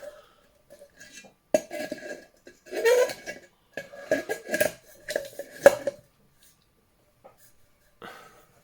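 A Firemaple HX pot is fitted onto a camping stove burner, giving scattered metallic clinks, taps and scrapes in short bursts, fairly close and quiet, with pauses between contacts and no speech.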